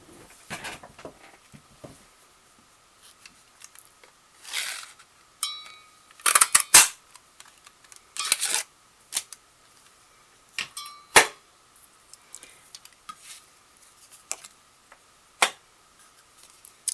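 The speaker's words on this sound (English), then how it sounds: "And I cut that with the 1 3/4 inch circle punch." A 1 3/4 inch circle punch cuts glimmer paper in sharp snapping clicks and short crunches, scattered irregularly between quieter handling sounds, close and clear with no talking.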